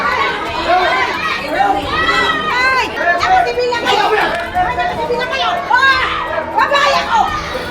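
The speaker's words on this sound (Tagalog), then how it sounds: "Maririnig sa video ang sigawan ng dalawang grupo." Two rival groups of security guards shout at each other during a protest in Manila, a dense crowd of overlapping raised voices yelling continuously and loudly throughout.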